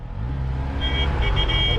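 Road traffic crawling in a long jam where a closed bridge has diverted vehicles, a loud close rumble of idling engines with a brief higher horn-like tone sounding partway through.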